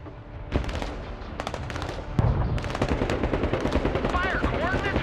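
Mortar and gunfire in the tactical strategy game Broken Arrow: dense, rapid bursts of blasts and cracks that pile up into a continuous barrage, loud and close, with a heavier thump partway through and a voice faintly underneath.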